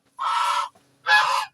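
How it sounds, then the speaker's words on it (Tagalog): Geese honk close by, two loud drawn-out honks separated by a brief pause. "Ang daming gansa mga guys."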